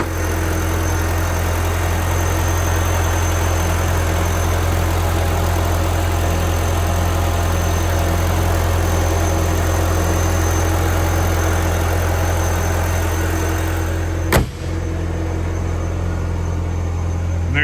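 A 2002 Audi TT 225hp Quattro engine idles steadily after a cold start, a constant low hum with a faint high whine and no revving, close and uninterrupted except for one brief click near the end.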